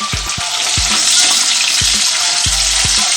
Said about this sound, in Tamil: மீதி ஒரு வெங்காயத்தை இதில் போட்டுடுறோம். போட்டு 2 நல்லா ஒரு கிண்டி விடுறோம்.